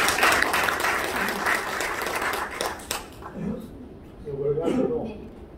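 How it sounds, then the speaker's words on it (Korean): Audience claps at a business lecture event for CEOs, a burst of dense applause for about three seconds that fades out, followed by a voice speaking briefly at a lower level. "열렬한 박수로 한번 감사하겠습니다"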